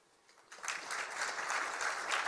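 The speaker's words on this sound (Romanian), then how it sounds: "aș vrea să aplaudăm această echipă tânără" An audience in a hall at a Digital UP conference in Cluj-Napoca bursts into applause, rising quickly from quiet to a steady, dense clapping that continues without speech.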